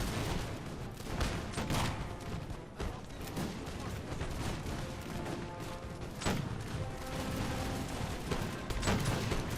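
Dense, continuous musket volleys crackle across a Napoleonic battlefield in Napoleon Total War, with sharp overlapping shots and heavier booms over a steady roar of battle noise.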